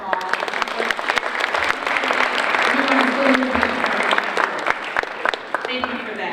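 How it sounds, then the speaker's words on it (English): Steady, loud audience applause fills a school Kindness Week ceremony, dense clapping from a crowd continuing without a break for several seconds. "let's just give him a round of applause"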